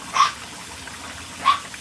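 Puppies bark from a short distance inside a camper, two sharp single yaps about a second apart over quiet room noise.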